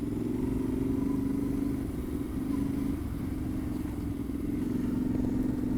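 Dual sport motorcycles, among them a Honda CRF 300L Rally, ride together off road, a steady engine drone with a low harmonic hum that holds close and constant throughout, with no voices.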